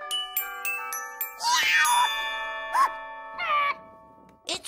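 A cartoon scooter bell chimes in a few bright, clear rings separated by short pauses, each with a sustained ringing tail over a soft musical background.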